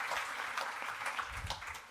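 An audience at an evening innovation event in France applauds a competing team, with brief, full clapping from many hands throughout two seconds.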